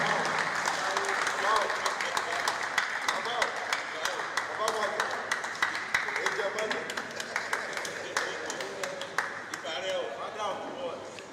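Audience applause during a seminar panel session, many people clapping continuously at moderate level while voices talk and call out over it.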